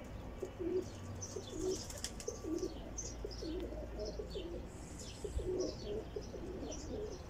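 Young turtle doves coo softly and repeatedly in a nearby group, with faint chirps overhead.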